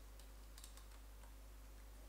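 Soft, close clicks of typing on a computer keyboard, faint and irregular over a steady low background hum, while entering prices for an Eve Online market sheet.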